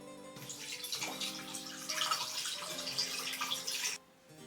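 Mint-infused potion liquid is poured through a strainer into a bottle, giving a steady, close trickling and splashing that stays continuous for about three and a half seconds, with no talking, then stops abruptly.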